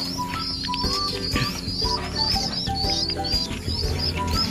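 In a loft of imported breeding pigeons, soft pigeon coos and murmurs overlap continuously. Higher chirps and faint wing flutters rise above a busy background, close and moderately loud.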